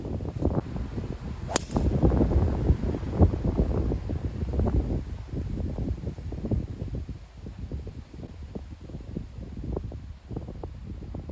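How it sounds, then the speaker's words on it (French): Strong gusty wind buffets the microphone, producing loud low rumbling bursts that rise and fall continuously, with a sharp snap near the start. "je sais que ça s'entend très certainement à la caméra et j'en suis désolé. Mais là il y a un vent de ouf"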